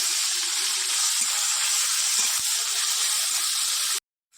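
Garlic, onion and ginger paste with chopped tomato sizzling in a hot wok, a loud, steady frying hiss that runs unbroken for several seconds and then cuts off abruptly.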